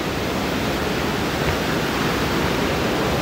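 A shrunken mountain river in the Himalayan Likhu Koshi valley rushes loudly and continuously, a dense unbroken roar of close flowing water with no voices.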